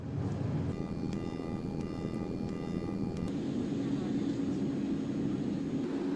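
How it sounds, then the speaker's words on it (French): Steady, loud engine drone and rushing air fill an airliner cabin in flight on a 40-minute hop of more than 350 km from Ouagadougou, continuous throughout with a brief faint chime-like tone near the start and no speech. "Et c'est parti pour 40 minutes de vol pour rallier la capitale économique du pays à plus de 350 km de Ouagadougou."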